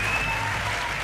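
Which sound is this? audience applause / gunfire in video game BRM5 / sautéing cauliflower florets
audience applause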